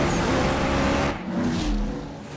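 A Ferrari's engine in the racing game CSR2 roars loud and close, then its pitch drops off sharply partway through, with no talking.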